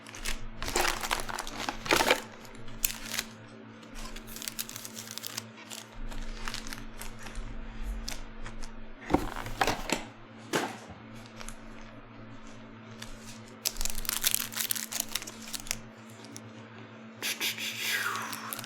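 A box of Select Basketball hobby cards and its packs are opened, with close crinkling and tearing of foil wrappers, handling rustles and soft taps in bursts over a low steady hum.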